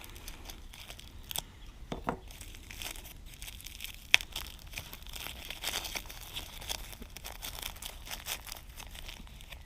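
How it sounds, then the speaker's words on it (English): A plastic bag crinkles and rustles close by as a brand new spare door key is unwrapped from it in a workshop, with scattered crackles and one sharp tick partway through. "Wrapped in a plastic bag."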